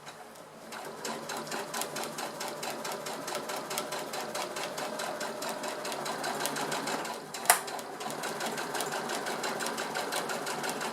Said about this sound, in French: je rabaisse mon pied et je repars pour ma couture